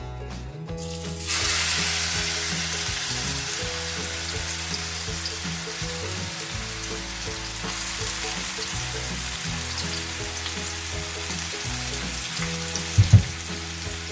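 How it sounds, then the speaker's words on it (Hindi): Steady, loud sizzling of crushed garlic and red chillies frying in hot oil, continuous crackle throughout with a couple of small clinks near the end. "अब हम क्रश किए हुए लहसुन और लाल मिर्चों को शामिल करेंगे"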